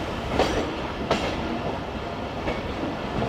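Tezgam passenger train in Pakistan rolling along, steady rumble of wheels on track with periodic sharp clanks at rail joints, close and continuous throughout.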